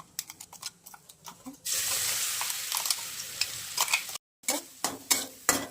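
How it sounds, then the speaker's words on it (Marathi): A spoon stirs and scrapes in a pan with rhythmic taps, broken by a loud steady sizzle of a ground coconut paste frying up close. "हलवून घ्यायचं, परतून घ्यायचं."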